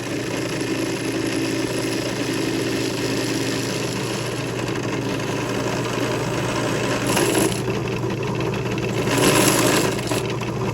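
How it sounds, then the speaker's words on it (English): A power drill bores rivets out of a Lionel O gauge plastic Caterpillar car, giving a steady grinding whir throughout with two louder, harsher bursts near the end. "And just letting that drill do the work, it'll pop that rivet straight out."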